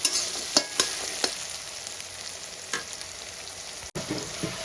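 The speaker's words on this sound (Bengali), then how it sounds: "পেঁয়াজটা খুব ভালো করে ভেজে নিতে হবে।" Chopped onions sizzle in hot oil in a pan while a spoon stirs them, a steady hiss punctuated by several sharp scraping and clinking strokes, close and alone without speech.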